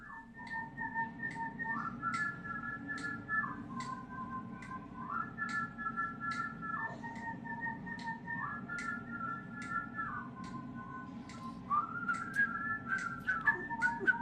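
Clear whistling of a simple tune, a melody moving between two alternating pitches in a repeating pattern, steady and close over quiet background noise.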